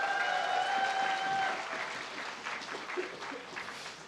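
A seated audience at a municipal proactive-administration best-practice contest gives applause to the presenters, a soft spread of clapping that gradually thins out over a few seconds.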